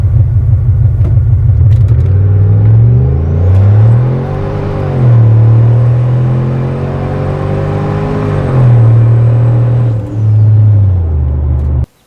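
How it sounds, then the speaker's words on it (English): A twincharged, Hellcat-swapped Dodge Magnum is revved with its exhaust cutouts open. The loud, deep idle rumble climbs through several throttle blips and sustained revs, with a supercharger whine rising and falling above the exhaust before it cuts off at the end. "let's give you guys a feel for how it sounds with the cutouts open"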